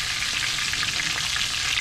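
Triggerfish fries in a skillet with a dense, steady hiss and crackle of hot oil, close and continuous with no talk.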